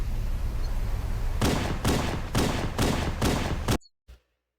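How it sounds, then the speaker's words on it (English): Magnum pistol fire from the video game Halo CE: four or five loud, punchy shots in quick even succession over a dense game noise bed, ending abruptly in silence with one faint trailing blip. "There's that meaty Magnum sound that's missing."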